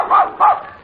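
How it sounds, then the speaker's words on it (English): A dog gives two short, sharp barks close by in a quick pair, with no talk over them. "must your dog bark when I'm talking?"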